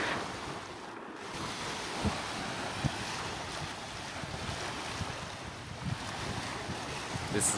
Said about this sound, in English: We are now in the Bayfield Main Beach.